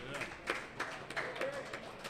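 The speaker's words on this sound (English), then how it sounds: "Let's have an applause for him as well" A studio audience at a brewery-hosted live show applauds a coach seated in the front row, giving scattered, fairly faint claps that stay thin and short under the room's murmur.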